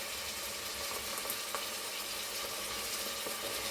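Crushed jarred garlic sizzles steadily in hot coconut oil, a dense continuous frying hiss with faint stirring clicks throughout.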